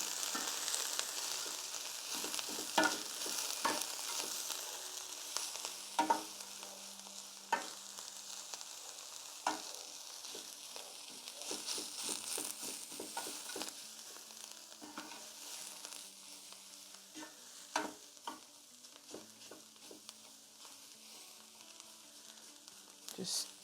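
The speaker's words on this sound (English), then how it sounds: "Just keep on stirring it till all the veggies is covered with this flavorings." Vegetables for a chickpea and vegetable stew sizzle steadily in olive oil while a utensil stirs and scrapes the pan, with frequent short clinks and knocks over the continuous frying hiss, close and moderately loud, without speech.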